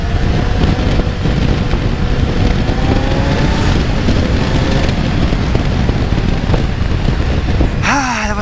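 A Kawasaki Z900 superbike ridden in the rain gives a loud, steady engine drone mixed with heavy wind rush across the microphone, holding unbroken for the whole stretch with a brief higher whine near the end.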